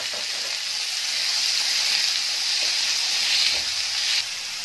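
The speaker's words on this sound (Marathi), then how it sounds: "पॅनमध्ये थोडंसं तेल घालायचं आणि त्याच्यामध्ये टोमॅटो भाजून घ्यायचं आहे" Tomatoes frying in a little oil in a pan for a jackfruit seed curry, a loud, steady, close hissing sizzle that holds for over four seconds, then drops slightly near the end, with no voices.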